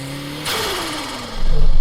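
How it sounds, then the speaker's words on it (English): A turbocharged Suzuki Jimny engine revs up and then lets off, giving a brief whooshing blow-off valve hiss before the engine swells loudly again, heard close up. "this just has beautiful turbo-y sounds emanating from down here, and the blow-off valve as well"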